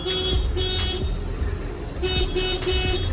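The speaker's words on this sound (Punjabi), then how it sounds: "ਅੱਜ ਹੌਰਨ ਨਸੀਬ ਹੋਣ ਲੱਗੇ" Short car horn toots sound over and over in a busy, rumbling vehicle setting, several brief honks from newly fitted large horns on a Toyota Etios, in a loose rhythm over engine noise.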